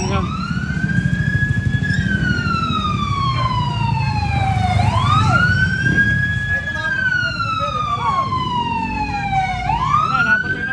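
A fire truck siren wails loud and close in repeated rising and falling sweeps, responding to a burning electric pole in a Philippine barangay, with an engine rumbling beneath and brief voices.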